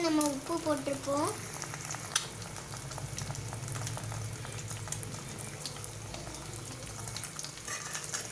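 Eggs frying in a hot pan, a close steady sizzle and crackle lasting throughout, with a few faint stirring clinks and a brief tonal sound at the very start.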